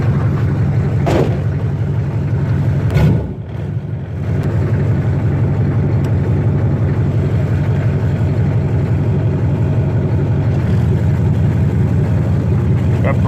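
A 1987 Monte Carlo with a swapped-in 6.2L diesel engine runs steadily, its low, continuous drone holding throughout, with a brief dip and a few faint knocks early on.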